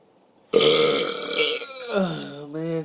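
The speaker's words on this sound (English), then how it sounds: "I dare you to try this. My next burp." A person deliberately forces out one long, loud burp right up close, starting abruptly after a short silence and stretching into a drawn-out, croaky belch that wavers in pitch near the end.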